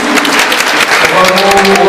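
Applause from a crowd at the inauguration of an equestrian riding arena, loud and close, a continuous dense clatter of clapping that swells slightly toward the end, with faint voices underneath.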